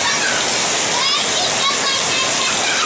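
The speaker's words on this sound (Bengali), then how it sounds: "প্রচুর বৃষ্টি হচ্ছে প্রচুর বৃষ্টি" Heavy rain pours down on a busy street with a dense, loud, steady roar and splatter, close by and unbroken, with a voice faintly mixed in.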